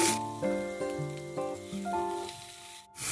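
Eggplant and pumpkin pieces sizzle and fry steadily in hot mustard oil, a close, continuous crackle with brief stirring accents throughout.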